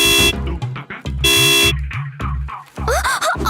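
A car horn blasts in long, loud honks between shorter toots, up close on a busy neighborhood street, with a brief voice near the end.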